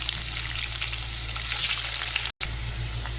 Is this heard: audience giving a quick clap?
no